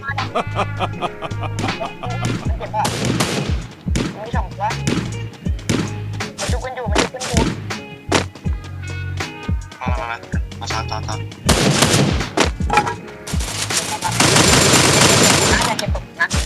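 Video game gunfire crackles in rapid bursts throughout, with dense automatic volleys and isolated shots, loudest near the end, while players talk and laugh over it.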